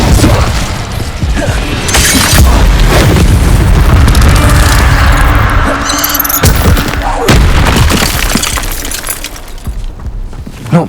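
A fire spell cast in the Hogwarts Legacy video game, fought against a giant spider: loud booming bursts and shattering crashes roll continuously under the battle, with a sharp crack near the end.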